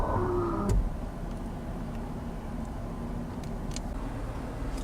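A retractable running board motor on a 2018 Toyota 4Runner Limited runs with a steady, clunky mechanical whir, close by, preceded by a brief louder clunk at the start.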